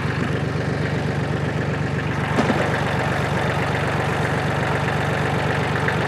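A mower engine runs steadily nearby, a constant droning hum with an even, unchanging level throughout and no talk.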